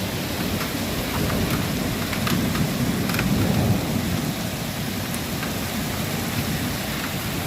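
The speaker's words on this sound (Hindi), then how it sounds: "बहुत स्पीड से बारिश हो रही है इस टाइम" Heavy rain pours down steadily in Italy with deep rolling thunder swelling in the middle, a dense hiss of water on surfaces throughout and no voices.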